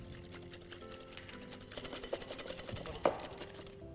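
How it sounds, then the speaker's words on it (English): Eggs and caster sugar are whisked in a bowl, giving a quick run of soft rhythmic clinks and taps against the bowl, faint at first and building, with a sharper knock near the end. "Now to these eggs, I'll add caster sugar and give it a mix."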